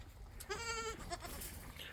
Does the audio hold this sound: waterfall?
no